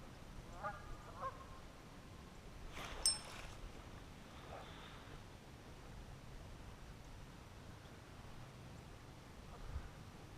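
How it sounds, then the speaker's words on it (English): Black ducks flying overhead at dusk beside a Virginia fishing lake in February, giving a few faint, distant honking quacks early on against quiet ambient noise. "I got some ducks coming over me, and I was curious what they are. I think they're black ducks."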